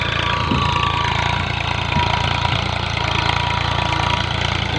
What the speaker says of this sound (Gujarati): ટ્રેક્ટરનું સેલ જોઈ લો.